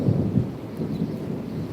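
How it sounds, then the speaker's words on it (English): Heavy thunder rumbles during a storm in Cuba, a deep rolling boom that swells early on and then fades into a low continuous roar, with no voices. "There's still a bit of thunder going around out there"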